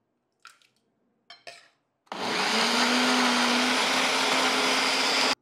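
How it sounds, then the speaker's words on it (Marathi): Kitchen mixer grinder pulverizing roasted whole spices such as green cardamom, mace and star anise into fine powder, a loud steady whirring roar after a few short clinks and shakes. "थंड झाल्यावर आपण मिक्सरमध्ये बारीक करून घेऊ"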